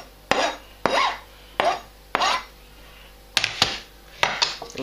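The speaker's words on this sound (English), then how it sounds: "just get that and just scrape it in." Cold pasta is scraped from a container into a bowl in a series of short, close scraping strokes, about seven rasping passes with brief pauses between them, heard alone without talk.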